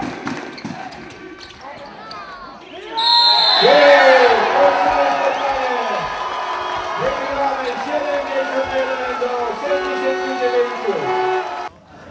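Basketball arena crowd erupting after a late free throw in a close 71–69 game, a loud surge of cheering and applause that swells suddenly and stays strong, with an announcer talking over it and bursts of whooping.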